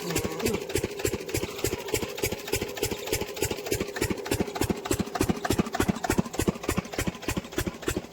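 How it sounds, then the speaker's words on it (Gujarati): A single irrigation pump engine chugs steadily in a fast, regular rhythm, its rapid pulses running unbroken from start to finish at close range. "તો ફાઇનલી જો આપણા મશીન ચાલુ થઈ ગયું છે."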